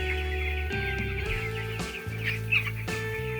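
Broiler chickens cluck on a poultry farm, a dense chorus of short clucks and calls over a steady low machine hum, close and moderately loud.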